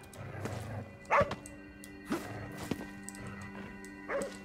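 A small dog in the video game Ghostwire Tokyo gives a few spaced barks, close and clear, over a low ambient hum and soft game sounds.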